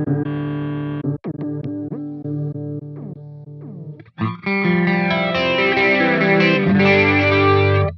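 Electric guitar run through a chorus effect on a Line 6 HX Stomp, playing ringing chords and notes with a shimmering, wavering tone, a short pause near the middle, then fuller, brighter strumming that stays loud and sustained to the end.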